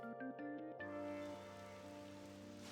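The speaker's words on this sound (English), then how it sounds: "this rain's seriously getting on my nerves" Steady rain hiss in the game Persona 5 Royal, a soft continuous wash under sustained musical tones and a brief rhythmic pattern at the start, with no talking.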